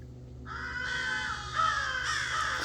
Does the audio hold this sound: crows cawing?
yes